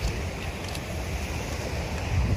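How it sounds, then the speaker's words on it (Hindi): Water rushes steadily around a large dam near the Meja dam, making a continuous broad roar with wind buffeting the microphone. No one speaks, and the flow stays even and close throughout. "ये पानी चल रहा है इधर"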